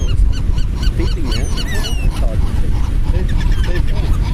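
Seagulls call at a beach, several overlapping squawks and cries over a loud, rumbling outdoor background, with a voice briefly audible under them.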